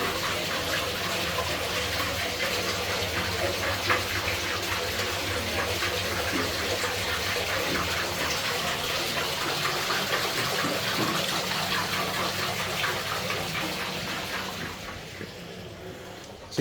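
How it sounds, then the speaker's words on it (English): Continuous gushing water from a museum water wheel and pump in Bewdley, Worcestershire, heard close and steady with no talking, fading slightly at the very end. "I can hear water. That's because we're by the water wheel and pump"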